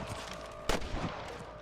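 A single sharp gunshot from a firefight in the Western video game Red Dead Redemption cracks out once, loud and near, over a steady background din.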